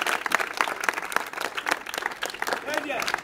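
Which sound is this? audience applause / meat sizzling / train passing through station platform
audience applause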